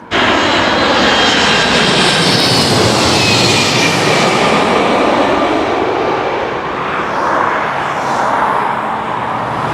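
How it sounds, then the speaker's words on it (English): Fixed-wing airplane passing low near a London airport, a loud sustained jet engine roar that fills the whole clip, swelling slightly and shifting pitch as it goes by, with no talking. "Another plane coming."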